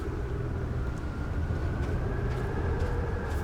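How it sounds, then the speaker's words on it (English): Steady, loud roaring rumble of a water tornado in the video game Outer Wilds, a continuous broadband whoosh with no breaks, heard alone throughout. "Oh, that is the sound of a water tornado."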